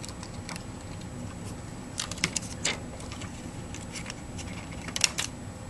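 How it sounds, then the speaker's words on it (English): Quick, crisp snips of scissors cutting paper printed transparency images, several short bursts in loose clusters, close up in a quiet room with no talking. "so I'm using scissors."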